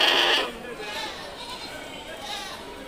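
Goats bleat at the Angallu weekly goat market, one loud nearby call opening, then fainter bleats and crowd murmur with people talking throughout.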